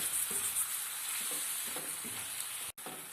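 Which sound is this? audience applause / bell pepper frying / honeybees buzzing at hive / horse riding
bell pepper frying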